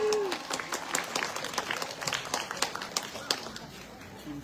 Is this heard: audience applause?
yes